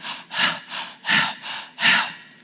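A person breathes deeply and forcefully through the mouth in a demonstration of excessive mouth breathing, with several loud, close, rhythmic inhale-exhale cycles and no talk.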